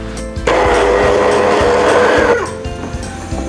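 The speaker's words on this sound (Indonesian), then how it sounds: "Cakep banget kan hand blender aku?" A hand blender, model IL215S, whirs loudly through shrimp and taro batter for about two seconds, rising abruptly and cutting off, with softer kitchen clatter before and after.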